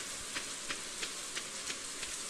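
Rain in the farming video game Stardew Valley, a steady hiss of falling drops with soft periodic pattering accents, no one talking.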